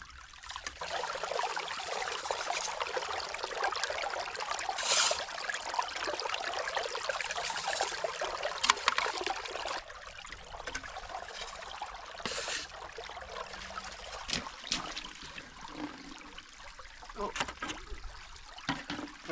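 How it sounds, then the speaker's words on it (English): Water runs down a gold sluice box as material is fed in, a steady close rushing trickle with scattered splashes and clatters of gravel, continuing throughout. "I'm just going to feed into the sluice, and that water is going to run it down"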